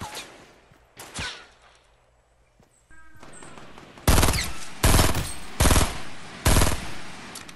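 Gunfire in the video game Fortnite: a single shot, a quiet lull, then four loud close bursts of rapid fire in quick succession, with no voices.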